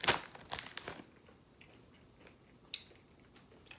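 Sun Chips sweet potato and brown sugar multigrain chips crunch close to the mic, a quick burst of crisp bites at the start followed by a few sparser, fainter crunches.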